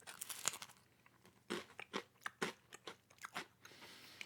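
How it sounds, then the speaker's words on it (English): Crisp crunching bites into a cauliflower pizza crust with cheese, several sharp crackly bursts spaced irregularly, close and fairly quiet with no talking. "The crunch on the crust is not bad either."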